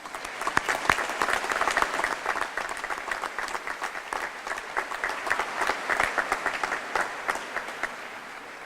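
A graduation audience at Hastings High School's 2018 commencement applauds the graduates, steady dense clapping from a large crowd sustained throughout, with scattered sharper individual claps standing out.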